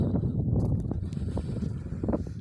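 Strong winter wind buffeting a handheld microphone outdoors, producing heavy low rumbling gusts that surge and ease throughout, loud and close, with no talking.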